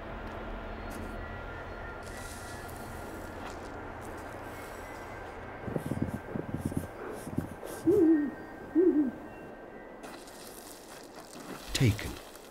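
A snowy owl calls in a cold winter night: a few short, hoarse hoots stand out over a steady low rumble and hiss, with a lower thud near the end.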